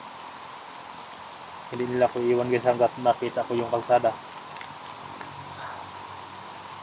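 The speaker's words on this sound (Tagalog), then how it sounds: "Lakas na ulan guys, no?" Heavy rain pours in a constant hiss throughout, with someone speaking over it for a few seconds in the middle.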